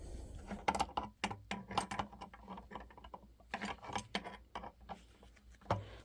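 Small metallic clicks, ratchety ticks and scraping come in quick irregular bursts as a plier driver tightens a pipe vise, close but quiet with no voices.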